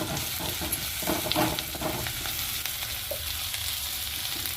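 Sliced onion sizzles steadily in hot oil as a tempering for a palya of green gram, beans and dill leaves, with stirring scrapes running through the close, constant crackle.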